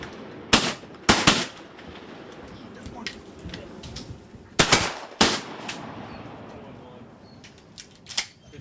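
Shotgun blasts ring out during a duck hunt, two sharp reports close together, then another close pair a few seconds later and a fainter fifth shot near the end, with outdoor background noise between.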